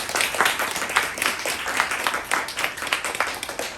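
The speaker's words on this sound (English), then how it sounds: "Let's give Lilly a big round of applause" Applause from the audience at an alumni lunchtime lecture, a dense, even patter of many hands clapping close by for several seconds, alone with no talk over it.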